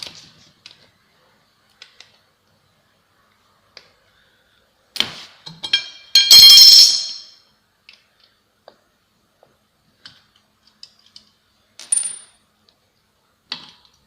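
Sharp metallic clinks and taps as a 6mm hex key works on the bolts of a VW Golf 7 1.2 TSI manual gearbox. A scattered handful of light ticks is followed by a louder cluster of rattling metal contacts midway, with quiet gaps around them.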